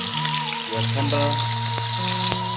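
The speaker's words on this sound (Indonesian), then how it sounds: "cengek sama tomat" Cengek chilies and tomato sizzling in hot oil for sambal, a loud continuous crackling fry up close, with a faint clink or stir near the end.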